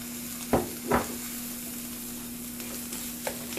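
Thick potato vada pav mixture stirred in a hot pan, with two distinct scraping strokes near the start and a soft sizzle running steadily underneath; a later, lighter scrape closes it, with no talking.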